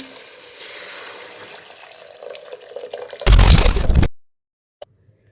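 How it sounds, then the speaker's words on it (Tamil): Water pours steadily into a metal pressure cooker holding black kavuni rice flour for porridge, a rising splash under faint background noise that swells, then stops abruptly, followed by a single small clink. "தேவையான அளவு தண்ணி சேர்த்துக்குங்க"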